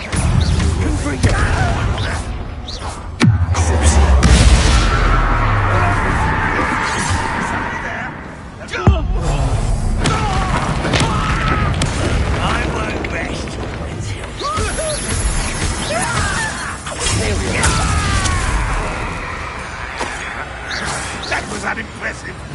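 Confringo fire-blast spell bursts in Hogwarts Legacy combat, loud impacts and crashing blasts amid game music and effects, with a sharp burst near the start and another partway through, a voice speaking over the action.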